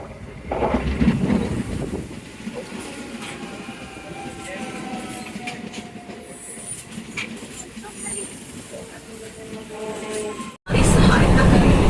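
A passenger train rumbles along steadily, heard from its open doorway, with rushing wind and rattling carriages, then a sudden burst of louder wind and roar near the end.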